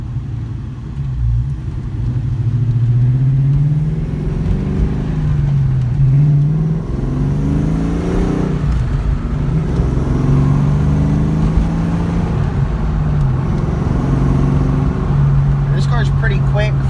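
A cammed 2004 Ford Mustang GT with a bolt-on cam, driven at part throttle, its engine rising through the revs with a low rumbling tone, shifting and climbing again under steady road noise.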